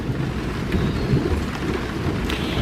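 A thunderstorm over a meadow, with steady heavy rain and low rumbling thunder rolling continuously and fairly near, no voices.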